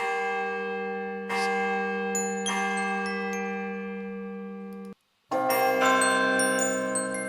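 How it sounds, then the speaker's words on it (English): A bell tower sample from the Lumina sound library, used for Christmas comedy music, gives resonant church bells that strike several times and ring on in long sustained tones, then stop briefly before a fresh peal. "the bell tower from Lumina"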